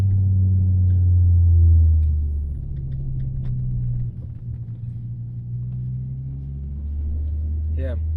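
A 2011 Ford Focus ST 225 with a five-cylinder engine while driving, giving a steady deep rumble close inside the cabin that swells early on and then settles into a constant drone.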